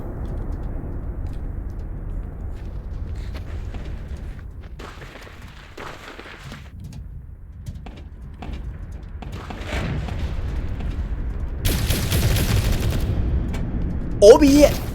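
SMG and other gunfire rattle in a Sector's Edge tournament match, with bursts and scattered shots under a commentator's voice, growing denser and louder toward the end along with a sharp blast.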